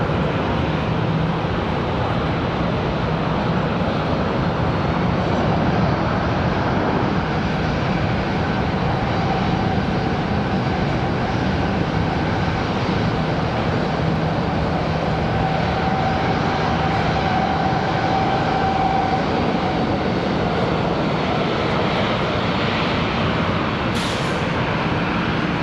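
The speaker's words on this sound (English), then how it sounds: "Got the American 737 coming out right here." An American Airlines Boeing 737 moving at Charlotte Douglas airport produces a continuous, loud jet-engine roar with a faint steady whine, holding nearly level for the whole span with no talk.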